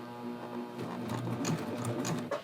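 A coverstitch sewing machine runs steadily while stitching a triple cover hem on a neckline, a close, continuous mechanical whir with faint clicks and no talking.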